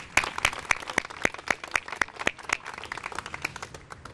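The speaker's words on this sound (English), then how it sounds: "let's give him a round of applause as well" An audience claps at an outdoor ceremony with a Rock Hall announcement and park dedication, a steady round of applause from a modest crowd lasting the full few seconds, close and moderately loud.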